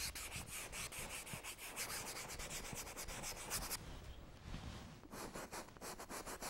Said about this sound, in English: I'm just scrubbing it harder as I move further up